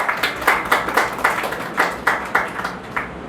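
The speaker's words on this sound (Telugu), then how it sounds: "పట్టడం మరి గట్టిగా చప్పట్లు." Rhythmic clapping from an audience at a church sermon, roughly a dozen evenly spaced claps in a steady beat, fairly loud and close, with no talk over it.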